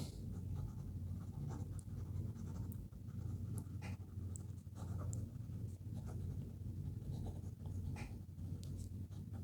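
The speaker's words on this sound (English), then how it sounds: "Let's do some fast writing." A fountain pen nib scratches quickly across paper in fast writing, a faint continuous scratching with small ticks over a low steady room hum.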